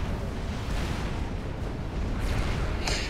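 Turrets fire in the strategy game Supreme Commander Forged Alliance, producing continuous heavy rumbling booms and blasts with a sharper burst near the end, loud and dense throughout.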